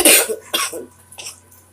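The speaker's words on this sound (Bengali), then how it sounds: "সরি আমার প্রচণ্ড কাশি কাশিটা এখনো কমে নেই" Two harsh coughs burst out close up, one right after the other, followed by a softer throaty sound.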